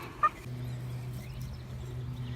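A single short chicken call rises once near the start, then fades into a steady low hum from the garden where the hens scratch outside in the sunshine.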